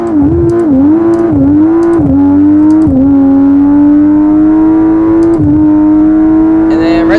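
A powerful wagon accelerates hard down a quarter-mile drag strip in BeamNG.Drive, its loud engine revving up through several manual gear shifts, the pitch dipping at each shift before climbing again.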